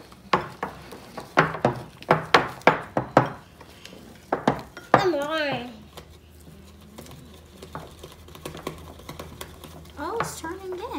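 Fluffy Christmas slime being mixed in a bowl, a run of wet, sticky slaps and squelches in a steady rhythm, close and clear, followed by people talking and laughing.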